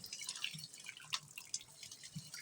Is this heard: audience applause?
no